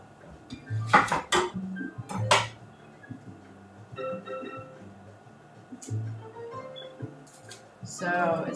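A spoon is fetched and used in a kitchen, with a few sharp metallic clinks and scrapes against dishes between quieter stretches, close by, with soft talk in the background.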